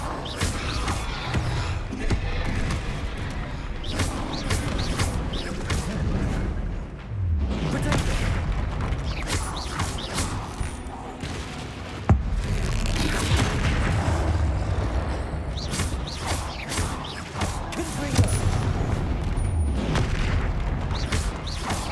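Explosive spell blasts in Hogwarts Legacy, loud booming impacts and crackling bursts repeating over a steady bed of game effects and combat noise, with heavier thumps standing out near the middle and end.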